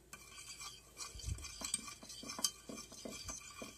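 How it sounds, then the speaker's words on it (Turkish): Sauce for oven-baked mackerel with vegetables is stirred in a bowl, with a faint, close run of small spoon clinks and scrapes against the dish, irregular and soft. "sosunu güzelce karıştırıyorum"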